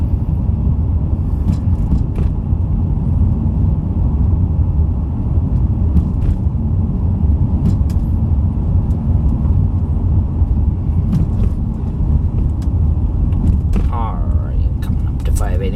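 A 2000 Dodge Intrepid ES drives along a road, giving a steady, loud low rumble of engine and road noise throughout, with a few brief clicks and someone talking over it.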